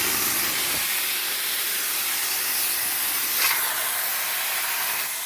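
A La Marzocco Linea Mini espresso machine's steam wand lets out a loud, continuous hiss, a steady roaring spray that shifts slightly in tone partway through, with no talking.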